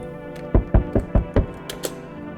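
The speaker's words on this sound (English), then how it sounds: "I can hear your footsteps." Footsteps land outside a door in the horror video game No, I'm Not Human: five heavy, evenly spaced thuds close by, then two or three fainter ones trailing off.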